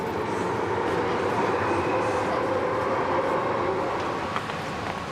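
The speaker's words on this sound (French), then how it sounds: "Igor emprunte le métro." A Hong Kong metro train runs steadily with a dense, even roar of wheels and carriage noise, heard from inside at constant loudness throughout.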